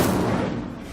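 Incendio fire spell cast in the Hogwarts Legacy video game, a loud, dense burst of fiery roaring whoosh lasting under a second, with a strong low rumbling body and crackling texture, heard alone.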